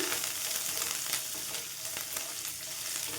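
Puffed rice upma mixture frying in a pan over a medium flame: a steady, dense sizzle with crackle running throughout, and occasional faint scrapes of stirring, with no one talking.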